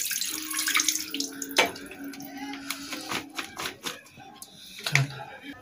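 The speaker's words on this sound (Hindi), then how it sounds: "और अभी हम गोभी को अच्छी तरह से धो लेंगे" Cauliflower is washed under a running kitchen tap, water splashing and spattering with clatters and knocks as the florets are handled in a strainer.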